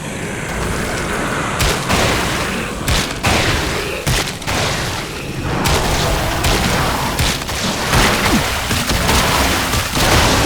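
Weapon fire in the video game WRATH: Aeon of Ruin, from an acid-spitting gun, heard as a loud, dense run of repeated blasts and booming impacts over roughly ten seconds with no talking.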